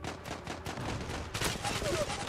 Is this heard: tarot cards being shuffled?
no